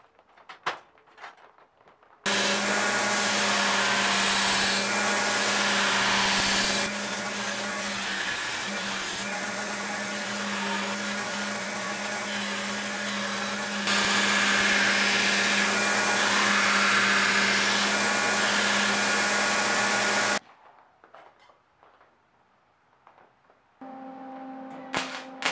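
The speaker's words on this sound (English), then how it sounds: "Then I'll mark out the cap on a piece of scrap and trim it on the belt grinder." Belt grinder trimming a steel cowbell cap cut from scrap, a loud continuous whirring grind with a steady hum, shifting in pitch and pressure as the workpiece is pressed, between quieter pauses at either end.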